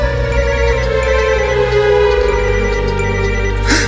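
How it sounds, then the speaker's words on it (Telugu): An incoming call on a mobile phone in a movie scene sounds a loud sustained electronic ringtone, a bright tonal melody ringing continuously, with no talk. "నాకు కూడా శివగారి నుండి కాల్ వస్తుందిరా"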